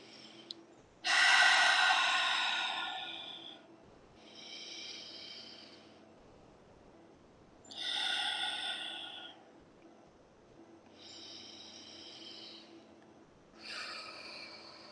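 Three deep grounding breaths during a meditation, each a long, loud inhale through the nose followed by a softer drawn-out exhale, spaced slowly over a quiet background hum.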